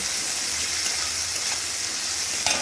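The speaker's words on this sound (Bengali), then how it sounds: "সেই পেঁয়াজ কুচিটা খুব ভালো করে এই তেলটার মধ্যে ভেজে নেব" Chopped onion frying in hot oil, a steady close sizzle with a soft bubbling hiss that holds evenly throughout, with one slightly louder crackle near the end and no one speaking.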